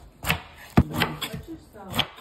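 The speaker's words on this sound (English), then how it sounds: "Let's start by cutting off the top." A knife chopping through a pineapple on a cutting board, several sharp, close thuds at uneven intervals, one heavier knock standing out among lighter cuts and faint handling noises.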